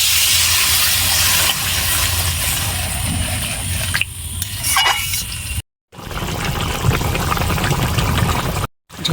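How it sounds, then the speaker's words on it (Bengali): Curry broth with potato and pointed gourd simmering to a boil in a pot, a steady loud bubbling hiss and steam that runs continuously, with two brief dropouts. "ঝোলটা ফুটে গেছে"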